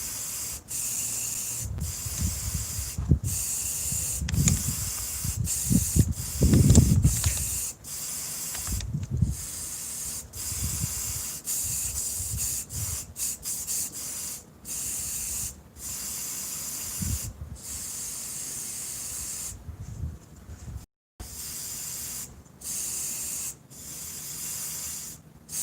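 Spray paint hisses from a can over water for hydro dipping, a series of short and longer bursts with gaps between them, fairly close and alone apart from some low handling noise.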